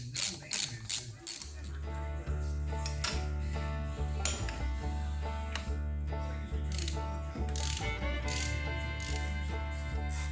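A ratchet wrench clicks in quick rhythmic bursts as intake manifold bolts are tightened on a Willys engine, close and crisp, with metallic tool clinks between the runs.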